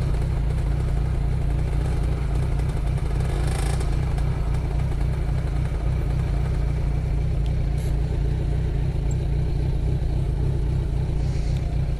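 A small 50cc moped engine idles steadily nearby, a continuous low putter running without break throughout.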